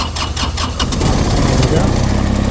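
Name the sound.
LeeBoy asphalt paver engine starting up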